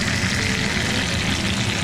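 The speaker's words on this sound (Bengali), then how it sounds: "এবার মাছ ভাজতে বসিয়েছি" Fish fries in a pan with a loud, dense, continuous sizzle, close and steady from start to finish.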